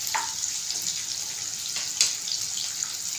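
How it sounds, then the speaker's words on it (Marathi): Chopped onion frying in oil in a pan until browned, giving a steady bright sizzle with small crackles and a brief stir, close and continuous throughout. "कांद्याला चांगला लाल करून घ्यायचं।"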